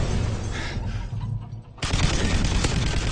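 Gunfire in a video game gunfight comes as dense, rapid bursts. There is a brief lull, then another loud, crackling volley.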